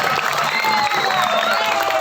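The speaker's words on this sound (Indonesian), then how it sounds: "Tepuk tangan untuk Pak Haji Saiful." Crowd at a village gathering celebrating seven football fields built side by side, applauding and cheering in a steady dense wash for about two seconds, with a whistle-like tone threading through the noise.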